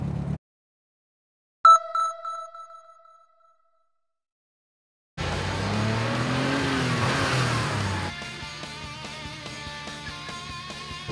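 An air-cooled Porsche 911 on a race track: a brief engine blip and tail-off, silence, then a sustained loud run of the flat-six pulling hard, its pitch sweeping upward before settling into a steadier drone.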